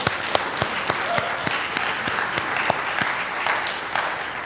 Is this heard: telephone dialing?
no